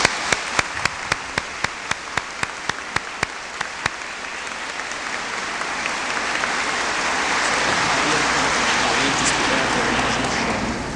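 An auditorium audience applauds guests; a few sharp individual claps come first, then the applause swells into a dense, steady wash of clapping that holds loud to the end.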